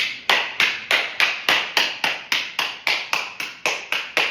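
Hands clap in a steady rhythm during a golf lesson demonstration, about fifteen sharp, close claps evenly spaced, with no talking between them.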